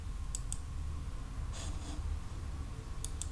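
Computer mouse clicks on a spreadsheet cell, a few sharp soft double clicks at the start and again near the end over a faint background hiss, no talking.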